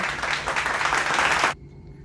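Brief burst of clapping during a balloon-popping reward and punishment game, lively and fairly close for about a second and a half before cutting off abruptly into quiet.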